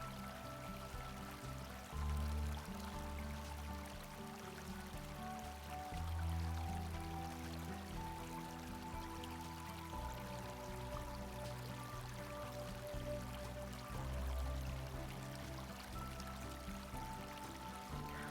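A small creek along the Upper Gnat Creek nature trail flows steadily, a continuous close-up babble and trickle with no voices and a few low thumps.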